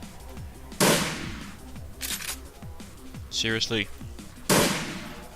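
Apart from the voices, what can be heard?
shotgun firing in Shadowrun Returns video game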